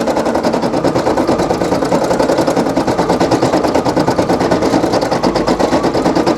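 A Brother PE800 embroidery machine stitches out a patch, its needle hammering in a fast, steady rhythm with a constant motor whir, loud and close for the whole stretch with no voices.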